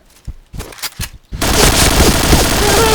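Dense, loud bursts of gunfire from the shooter game Point Blank erupt after a few scattered sounds and continue without a break to the end, a rapid crackling barrage.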